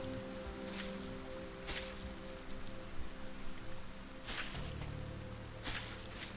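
Steady rain falling in a sky-island survival video game, a constant dense patter and hiss with a low hum and a few brief taps throughout.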